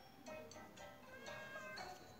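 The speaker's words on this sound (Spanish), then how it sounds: "Un gato." Cat in the Mad GunZ video game, a handful of short, faint meows in quick succession over a quiet background.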